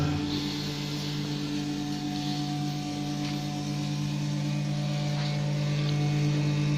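A model 603 vacuum packing machine draws air from a tray-packed bag of ajwa date paste. It gives a steady, loud mechanical hum that drones evenly throughout with no breaks.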